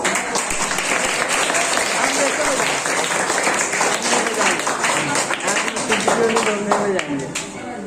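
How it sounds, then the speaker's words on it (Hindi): A school crowd at an Ambedkar Jayanti celebration claps continuously in dense, lively applause that stays loud throughout, with voices mixed in beneath it. "ताली बजाओ हाथ में, ताली बजाओ।"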